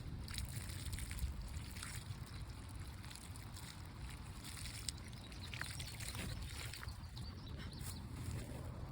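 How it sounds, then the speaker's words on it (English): Water poured onto a newly planted blueberry bush outdoors, a soft continuous sloshing and trickling at close range, fairly quiet, with light wind in the background. "So now we just water him."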